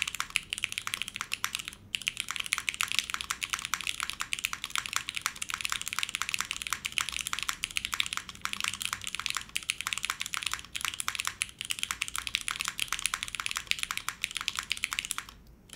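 Mechanical keyboard built with a carbon fiber plate and Cherry stabilizers being typed on, a rapid, continuous stream of crisp close keystroke clicks with occasional brief pauses.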